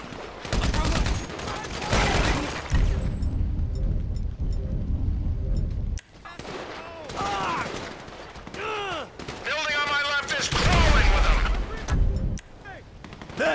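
Rapid sniper and automatic gunfire in Grand Theft Auto 5, loud bursts of shots cracking in clusters with a brief break midway, mixed with shouting voices and game action.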